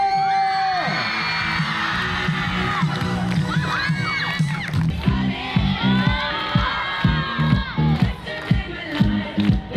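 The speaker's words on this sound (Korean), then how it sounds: "다 같이 소리 질러" Students at a girls' middle school sports day shout, whoop and cheer as a loud, dense crowd, with excited yells rising and falling and a voice or two cutting through near the end.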